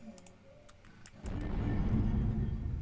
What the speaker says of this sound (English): We're going to do something about that ship sound